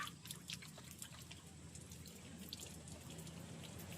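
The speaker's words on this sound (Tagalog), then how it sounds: "Kahaw, ito na, may tubig na." Water from a tap at a camp runs in a steady, faint trickle with light splashing, heard alone and close.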